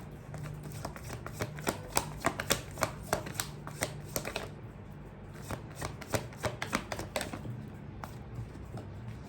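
Tarot cards shuffled by hand for a reading, a close, steady run of crisp riffling snaps and flutters repeating in quick rhythm over a soft background hum, without any talk.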